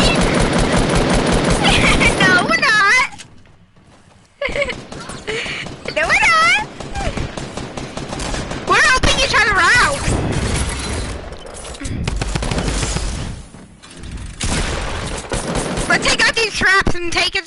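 Rapid bursts of automatic gunfire in a shooter video game, loud and sustained in dense volleys with brief gaps, mixed with excited shouting voices.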